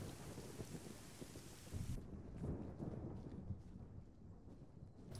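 Heavy rain pours steadily in the Arma 3 video game, with low rumbling thunder rolling underneath and growing louder around the middle before the downpour thins slightly. No talking.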